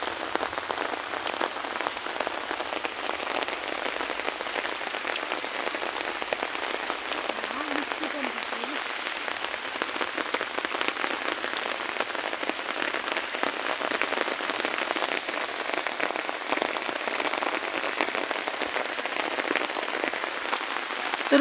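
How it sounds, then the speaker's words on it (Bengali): Steady rain falling by a riverbank, a dense, even patter of drops on surfaces that holds for the whole stretch, fairly close, with no talk. "আমার মনে হয় না যে আজকে সারাদিনে বৃষ্টি থামবে"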